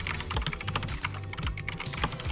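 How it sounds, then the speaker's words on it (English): Rapid, steady keystrokes on an IQUNIX L80 mechanical keyboard, close and crisp with a dense, even clatter and no voices. "Now typing on this keyboard is a pleasure."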